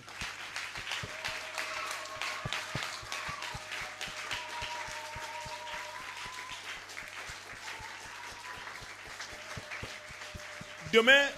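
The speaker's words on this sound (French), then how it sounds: "Oui, on peut acclamer le Seigneur." A church congregation applauding to acclaim the Lord, steady rhythmic clapping throughout at moderate distance, with a held musical tone underneath and a brief louder burst at the end.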